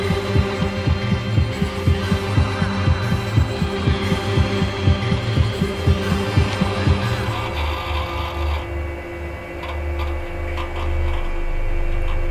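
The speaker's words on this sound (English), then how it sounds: "The heartbeat also speeds up." A heartbeat effect from the video game We Happy Few, marking a character near death, pulses in a rapid throbbing rhythm over a low hum, then gives way to a droning rumble.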